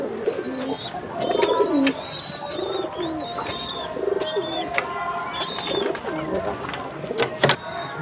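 Mundu sada pigeons, including a small-bodied male, coo steadily in a loft, with layered low cooing calls overlapping from several birds and occasional brief chirps around them.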